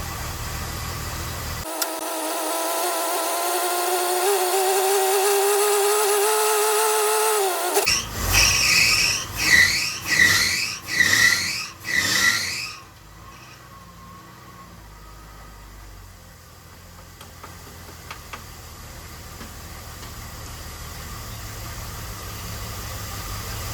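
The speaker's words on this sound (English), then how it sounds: "I'm just gonna let it idle and see if the choke still functions." A Jeep CJ7 engine runs with a steady drone, then stumbles through several loud uneven surges before settling to a faint low rumble, with no talking.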